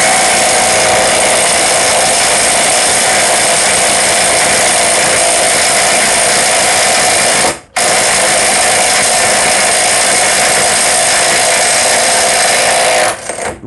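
A DeWalt DCF922M2 cordless impact wrench tightening bolts to 610 Nm, hammering loudly and continuously in a long burst, a brief pause, then another long burst that cuts off near the end.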